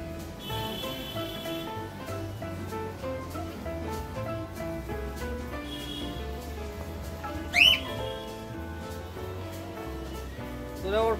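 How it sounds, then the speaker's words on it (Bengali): A pigeon calls at a home in Bengal, its squawking, warbling notes repeating against a busy background with one sharp high call near the end. "আর একটা পায়রা দেখেন"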